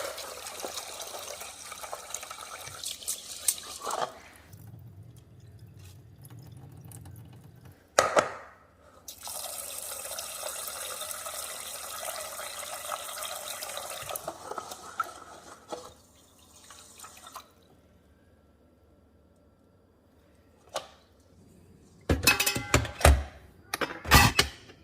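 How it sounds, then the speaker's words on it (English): Tap water running and dripping while rice is rinsed in a sink, a steady pour broken by splashes and short pauses, ending in a few louder sloshes and clatters near the close. "I like to make sure to rinse and wash the rice somewhere between 3 to 5 times"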